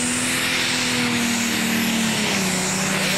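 A high-powered single-turbocharged pulling vehicle at an NTPA tractor pull in Imlay City, Michigan runs down a 300-foot track, making a loud, steady engine roar with a droning tone that sags slightly in pitch.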